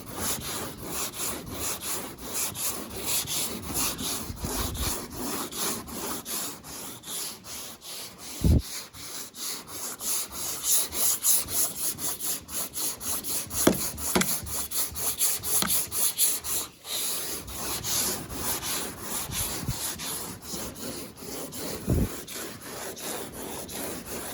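Hand sanding scuffs the roof panel of a 1991 Honda Civic, a continuous close rasping rub with a back-and-forth rhythm and a few sharp knocks, heard alone without talk.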